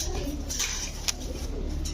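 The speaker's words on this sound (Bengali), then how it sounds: "নরের অনেক বড় সাইজের কবুতর।" Several large male pigeons coo in a low, continuous murmur at a loft, a steady close-by rumble with a few faint higher chirps over it.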